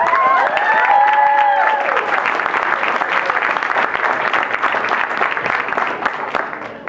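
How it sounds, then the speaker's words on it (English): A press conference audience applauds for a football international bowl event, a steady spread of clapping that carries on for several seconds, with a brief tonal sound near the start. "let's just start by giving that a round of applause"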